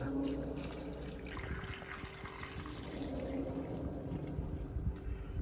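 Marinade pours steadily into a 10-litre bucket of tomatoes being pickled, a continuous close, splashing gush of liquid running for several seconds.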